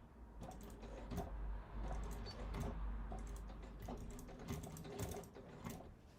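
Domestic sewing machine stitching a sew-along project at stitch length 4, a loud, close, steady mechanical whirr and clatter with rhythmic needle knocks, briefly reversing direction without any talking.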